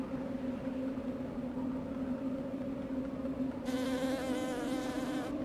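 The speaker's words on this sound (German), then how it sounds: "Geh weg, du scheiß Biene." Steady insect-like buzzing of a bee in the video game LittleBigPlanet 2, droning continuously near and fairly loud, with a brighter, shriller layer joining toward the end.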